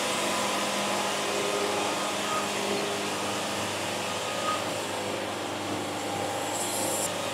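A sawmill blade cutting through a log, a steady loud whining and rushing roar that holds unbroken throughout, with no talking.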